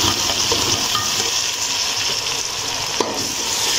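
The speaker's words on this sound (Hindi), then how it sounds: "अब मैं डालती हूँ टमाटर। साथ ही डाल देती हूँ हरी मिर्च।" Tomatoes and green chillies frying in ginger garlic paste for aloo gobi, a steady close sizzle with faint stirring clicks throughout.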